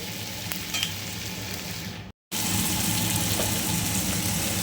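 Whole spices for a vegetarian aloo dum fry in oil with a dense, loud hiss that cuts out completely for a split second, then resumes just as strongly.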